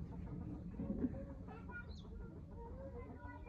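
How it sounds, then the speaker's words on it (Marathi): A hen clucks softly in a few short, scattered calls at moderate distance over quiet background noise, with no clear talk. "कोंबडी."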